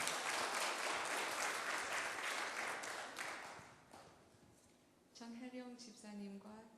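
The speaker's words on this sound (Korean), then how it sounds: "우리 일단 박수로 한번 환영하시겠습니다." A church congregation at a Sunday service claps in welcome as people come to the front, a dense wash of applause that fades out before a voice begins speaking.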